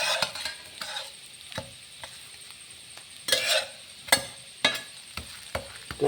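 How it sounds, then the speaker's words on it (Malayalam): Bread toasting in ghee in a pan: a soft, steady sizzle broken by sharp clinks and scrapes of a utensil against the pan, close by with no voices. "നെയ്യിൽ ബ്രെഡ് നല്ല ടോസ്റ്റ് ചെയ്യുക."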